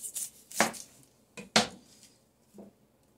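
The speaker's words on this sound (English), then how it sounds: "I'm going to cut my vegetables up first, and we need some onions." Knife strikes on a cutting board as vegetables and onions are chopped for a pot of greens, a few sharp, separate chops with pauses between them, close and fairly quiet, with no talking.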